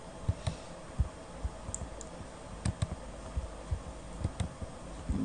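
Keys on a computer keyboard tap out irregular, crisp clicks, close and fairly quiet, in short clusters over a faint background hiss.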